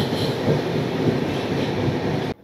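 The Saraighat Express, a long-distance train between Howrah and Guwahati, rumbles along in a loud, steady roar of wheels and carriage noise that cuts off abruptly at the end.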